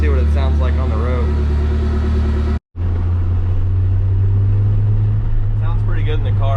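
A VW Beetle fitted with a custom DIY exhaust drives along a road, its engine a steady deep drone heard from inside the car, with a brief drop to silence partway through before the low hum resumes.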